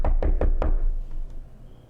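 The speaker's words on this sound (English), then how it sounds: "thought I heard the door" Four quick, firm knocks on a door in an even rhythm, close and clear, followed by quiet with a faint fifth tap.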